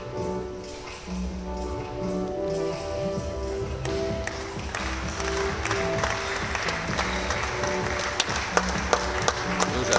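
Audience applause for children at a volleyball event in a sports hall, clapping building steadily to a loud, sustained roar with sharp individual claps standing out, over an underlying musical drone.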